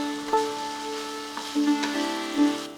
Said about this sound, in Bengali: চাল দিয়ে ভাজতে থাকুন যতক্ষণ না চাল খানিকটা স্বচ্ছ হয়ে আসে